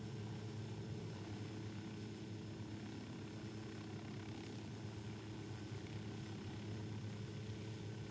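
A helicopter in the ArmA 3 or Ghost Recon Wildlands video game gives a steady, quiet rotor and engine drone that continues evenly without any talk.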